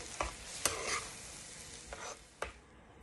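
A spoon stirs thick yellow dal (lentil soup) seasoned with asafoetida in a pot, giving a few soft, separate scraping strokes over a faint hiss, with no talking.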